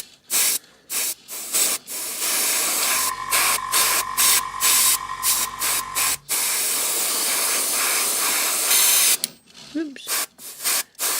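An airbrush sprays camouflage paint onto a model figure in repeated short bursts, loud close hissing pulses separated by brief pauses, followed by a longer steady spray.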